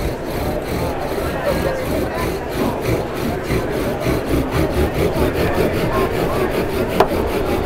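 A wooden fire-drill spindle spins and grinds against a wooden socket as the bowl is burned in during a friction-fire demonstration, giving a continuous rough rubbing rasp with steady back-and-forth pulses, fairly loud and close.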